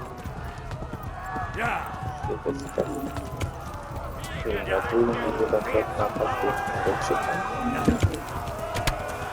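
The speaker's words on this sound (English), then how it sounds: "Cavalo!" Horse hooves pound in the medieval game Kingdom Come: Deliverance, a close, uneven galloping thud with snorting and movement noise, while someone talks and exclaims over it.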